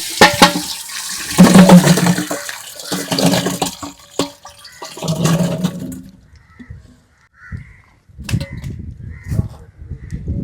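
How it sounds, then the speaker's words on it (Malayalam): Water poured into a pot of boiled tapioca during village cooking, a loud splashing gush at first, then easing to intermittent trickles and splashes, with a crow cawing faintly in the background. "വെള്ളം കൂടെ ഒഴിച്ചു കൊടുക്കാമേ"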